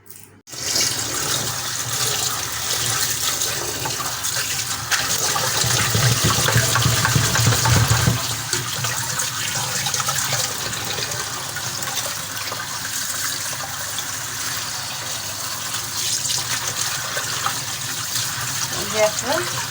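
Taro stolons are washed in water, a continuous rushing splash and gush of running water close up, steady for the whole stretch with a fuller surge early on.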